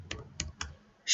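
A few sharp keystroke clicks on a computer keyboard while typing code in VB.Net, three separate taps spaced apart, close and fairly faint, with a brighter burst at the very end.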